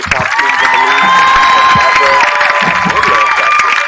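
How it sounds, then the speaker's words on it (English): Crowd at a high school varsity football game cheering and applauding for the marching band, with shouts and whoops over continuous clapping, loud and sustained. "Let's have another round of applause for your marching Hornet band."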